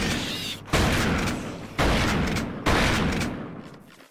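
Three loud, close grenade blasts from The Thing video game, each a sudden heavy boom that rolls off into a rumbling tail, spaced about a second apart.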